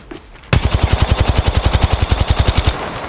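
Automatic gunfire in the Apex Legends Mobile game: after a short quiet lead-in, a loud, steady burst of rapid shots at an even rhythm runs for about two seconds, close up and alone.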